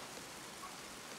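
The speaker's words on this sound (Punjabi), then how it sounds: "ਬਾਰਿਸ਼ ਚੈੱਕ ਕਰ, ਬਹੁਤ ਬਾਰਿਸ਼ ਹੋਈ" Heavy rain falls at night as a dense, even hiss of drops, brief and fairly faint, with no talking.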